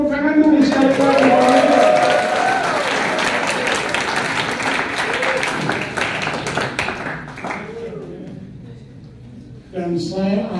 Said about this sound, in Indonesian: Tepuk tangan dulu sekali-kali.